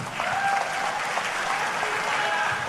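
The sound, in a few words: audience applause for the finance minister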